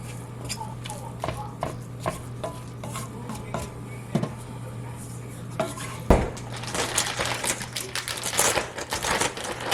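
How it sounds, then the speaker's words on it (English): Runza filling and drained sauerkraut are being mixed in a pan, with a spoon clattering and scraping against the metal in quick irregular knocks, growing busier and louder toward the end. "Let's mix this all up."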